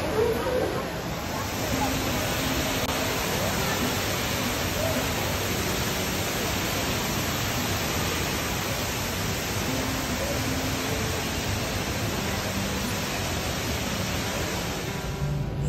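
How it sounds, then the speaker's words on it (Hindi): The indoor waterfall at Singapore Changi Airport pours with a continuous, loud, broadband rush that fills the space. A babble of crowd voices mixes in underneath throughout. "तो गाइस, वाटरफॉल स्टार्ट हो चुका है।"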